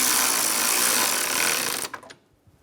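A power tool whirs steadily while driving a bolt into the fan assembly of a 2003-2007 Infiniti G35 during AC condenser work, then stops with a few faint clicks and clanks.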